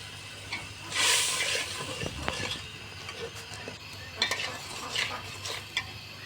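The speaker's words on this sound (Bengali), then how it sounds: "এখন এগুলা কিছুক্ষণ কষিয়ে নিব ভালো করে" Salt, turmeric and chili powder being sautéed in a pan for a pangas fish and bottle gourd curry, a soft steady sizzle with occasional stirring scrapes and light utensil clinks, close and moderately quiet.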